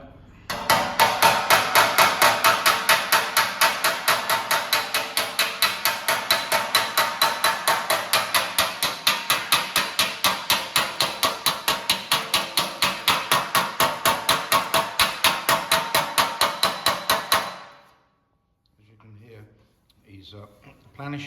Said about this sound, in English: He's planishing the weld out. He's got a good hard hit.